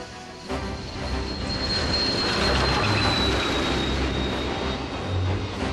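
Union Pacific 844, a newly refurbished 4-8-4 Northern steam locomotive, rolls past with a steady loud rumble, wheel and rail noise and a thin high squeal drawn out across the passage.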